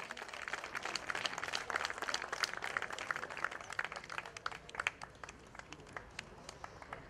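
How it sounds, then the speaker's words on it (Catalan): An audience at a tribute to elderly residents during a town festival claps for an honoree, brisk crowd applause that swells, then thins into scattered claps. "I aquest aplaudiment que s'emporta en Miquel."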